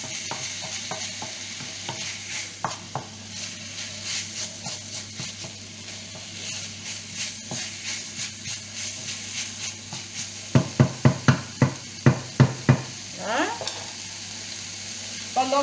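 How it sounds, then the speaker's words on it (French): Olive oil sizzles steadily in a pan throughout, with a run of sharp, close utensil knocks and scrapes from stirring near the end. "je vais rajouter un tout petit peu de l'huile d'olive."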